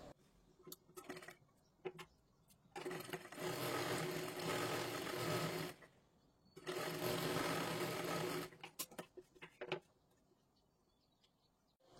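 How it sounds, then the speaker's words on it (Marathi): A sewing machine stitches a kathpadar saree blouse in two long, steady runs of close, rhythmic needle whir, each several seconds long, framed by softer clicks and handling taps in a quiet room. "इथे पण खालच्या बाजूला पूर्ण आपल्याला शिलाई मारून घ्यायची आहे।"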